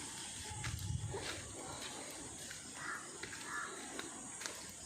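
A crow caws outdoors on an overcast day, harsh calls at moderate distance over a busy hiss of ambient noise, with faint movement sounds and no clear talking.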